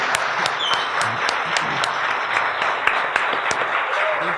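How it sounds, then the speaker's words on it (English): Library audience giving warm, sustained applause at a live event, a dense, even patter of many hands with a few louder individual claps popping out, faint voices murmuring underneath. "I think we have a rousing applause."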